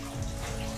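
Water pours into a bathtub, a steady close hiss of running tap water with a faint low hum underneath, brief and continuous, no speech.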